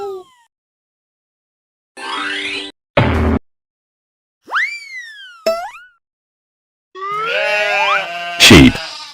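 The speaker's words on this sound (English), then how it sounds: "Sheep." Sheep bleat in a few separate calls, wavering, nasal cries spaced by silences, with a louder, harsher burst near the end, heard clearly and alone.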